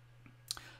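Light fingertip taps on the on-screen arrow keys of an iPad running Excel, two quick soft clicks close together against a near-silent background.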